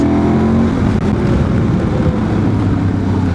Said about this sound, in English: the bike breathes, the engine breathes. And pulls, man